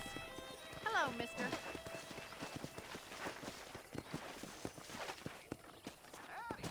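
Rhythmic hooves clip-clop at a steady walking pace beneath a brief spoken greeting, with a horse's whinny breaking in early and again near the end, in the video game Red Dead Redemption.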